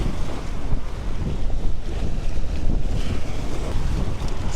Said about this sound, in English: it's a little bit windy, so it's a little bit harder to get it out there